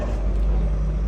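A JCB backhoe loader working nearby, its engine a steady low rumble and drone with no break.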